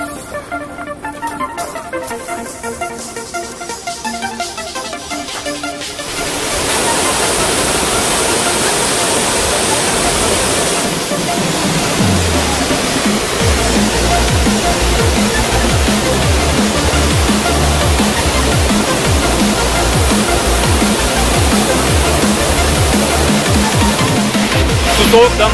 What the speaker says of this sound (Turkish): Evet, Korbu şelalesine geldik.